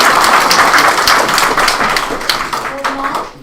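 Audience applause at a county school board meeting, a steady wash of many hands clapping that stays loud throughout and tapers slightly toward the end, with no talk over it.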